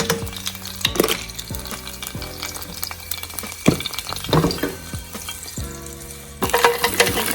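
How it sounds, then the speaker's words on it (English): Minced garlic frying in oil in a pan for eggplant lasagna, with crackling sizzle and sharp pops, interrupted by several knocks and scrapes of stirring, fairly close and steady. "you're gonna put 1 teaspoon of garlic in there. Ooh, it's popping."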